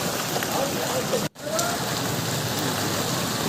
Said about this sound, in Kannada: ನಿನ್ನೆಯಿಂದಲೂ ಕೂಡ ಸುರಿತಾನೇ ಇದೆ ಮಳೆಗೆ ಜನಜೀವನ ಅಸ್ತವ್ಯಸ್ತವಾಗಿದೆ